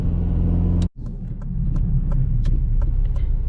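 A 2007 Honda Civic Si with 200k miles drives with a steady low engine rumble. The engine drops out briefly for a gear change, then climbs again under acceleration, heard from inside the car.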